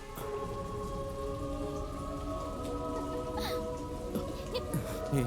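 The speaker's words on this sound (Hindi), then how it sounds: "बारिश तो सिर्फ उधर हो रही है।" Steady rain pours down with a constant hiss, scattered drips and a faint low rumble; no one speaks.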